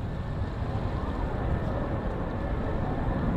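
Atlas rocket engine from United Launch Alliance burning during ascent, throttled down, heard as a constant dense low roar with steady broadband rumble and no breaks, loud and even from start to end.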